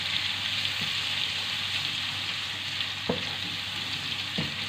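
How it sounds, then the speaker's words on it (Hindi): Ginger garlic paste fries in hot oil for chicken karahi, a steady close sizzle running throughout, with a few soft scraping stirs of a utensil cutting through it. "इसको अच्छी तरह मिक्स कर लेंगे ऑयल में, ताकि अदरक लहसुन की जो स्मेल है वो ख़त्म हो जाए"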